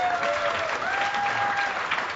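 A crowd at a Curiosity rover tweetup applauds its speakers in a brief, steady burst of clapping with a faint whistle running over it.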